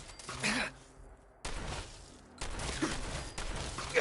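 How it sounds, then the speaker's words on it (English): Shotgun blasts in Fallout 4 while fighting a swarm of bugs in Nuka World, several separate booming shots spaced apart, fairly quiet overall with grunting creature noises between them. "This is why I got the shotgun out."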